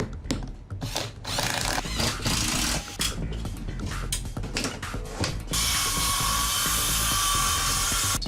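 A power drill drives screws into drywall during a house renovation, giving repeated close, loud whirring and ratcheting bursts that run continuously for several seconds.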